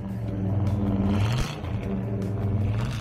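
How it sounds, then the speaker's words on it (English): A 1970 Mercury Marauder X100 with a 429 cubic inch V8 rumbles and revs briefly at moderate volume, a low steady growl that swells and eases alone without talk. "the 1970 Mercury Marauder featured a 429 cubic inch V8 engine, producing 360 horsepower and"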